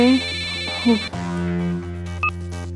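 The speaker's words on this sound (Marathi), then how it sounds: "फोन घे." A phone ringtone plays indoors in a Marathi TV serial scene, a steady electronic tone under brief talk.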